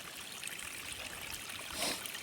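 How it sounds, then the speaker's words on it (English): Water runs steadily and spills over the side of a container, a continuous rushing trickle with a slight surge near the end and no voices. "And water was spilling out the side."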